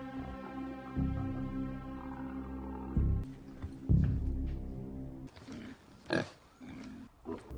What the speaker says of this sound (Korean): 그때 밖에서 들리는 돼지 울음소리